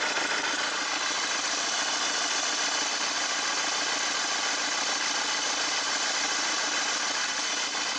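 A Mercedes Vito diesel engine with a leaking injector idles steadily and close, giving a constant rough hum with faint rattling and knocking.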